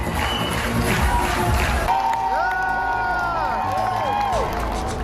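Fans in a Los Angeles audience cheer and shout during an RRR screening, a continuous roar of voices and clapping, joined midway by bright, sustained music tones layered over the crowd.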